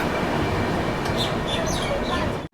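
The Sealdah–New Delhi Rajdhani train pulls into Durgapur station, a steady dense rumble of wheels and carriage noise with faint squeals and chirps above, cutting off sharply at the end.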